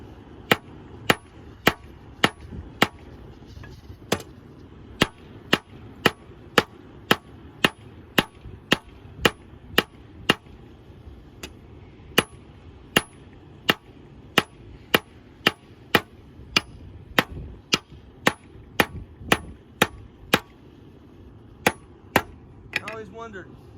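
A blacksmith hammers hot metal on an anvil while forging tongs, sharp ringing strikes in a steady rhythm of roughly one or two per second, close and loud, continuing for over twenty seconds.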